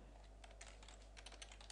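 Quick, light keystrokes on a computer keyboard typing a short phrase, a brief run of close clicks over a steady low electrical hum, fairly faint with no talking.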